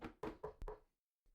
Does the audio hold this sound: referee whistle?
no